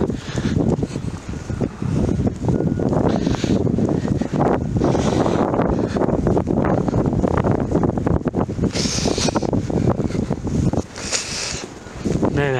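Strong wind gusting outdoors at a commuter train station, a loud continuous buffeting roar against the microphone that rises and falls in bursts, with a person briefly speaking.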